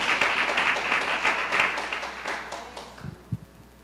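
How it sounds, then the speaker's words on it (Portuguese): Church congregation applauding during a worship service, a sustained round of clapping that fades out toward the end, followed by a few soft thumps. "Quer aplaudir, aplauda ao Senhor"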